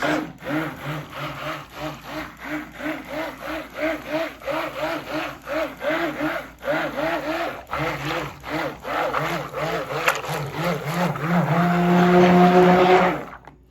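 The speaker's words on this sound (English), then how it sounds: "real quick, I'm going to blend this up" A blender mixing unscented soap batter with no additives toward a white trace: a motor whine swells and dips in a quick, regular rhythm, then settles into a louder, steady drone near the end.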